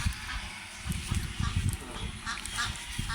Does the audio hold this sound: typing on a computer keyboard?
no